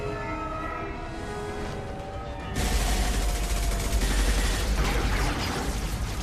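Gunfire in the Mass Effect 2 shooter: a low ambient hum with tonal drones gives way abruptly to a loud, dense wall of sustained weapon fire and rumbling blasts that carries on steadily to the end.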